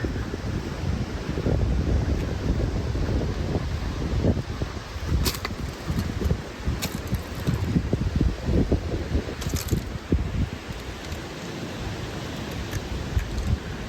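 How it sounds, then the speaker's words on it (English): Strong wind roars and buffets the microphone outdoors, a continuous gusty rumble with a few sharp rustles cutting through. "it's super windy out here"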